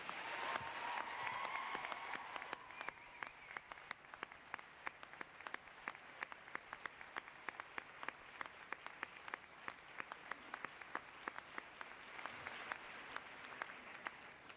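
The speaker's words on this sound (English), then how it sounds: "Please join me in a hearty round of applause for the staff of the Department of Nursing" A crowd at a nursing hooding ceremony applauds the Department of Nursing staff with dense, steady clapping that runs for several seconds, heard from some distance in a large room and fairly quiet overall.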